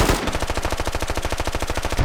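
Automatic gunfire in the military shooter game Squad, a loud, close, rapid and evenly spaced stream of shots that runs unbroken for about two seconds with no voices.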